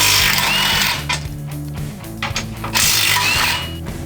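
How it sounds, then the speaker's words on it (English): A ratchet wrench loosening the front bumper bolts on a Ford Expedition, giving rapid mechanical clicking in two bursts with a quieter stretch between them, close and loud. "We're going to start with the upper bolts of the bumper, then lowers,"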